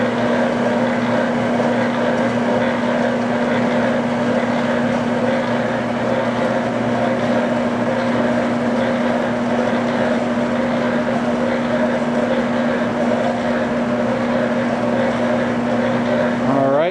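A Hobart V1400 commercial floor mixer runs at a steady pitch throughout, a loud continuous mechanical hum with constant motor drone and no talk, winding down at the very end.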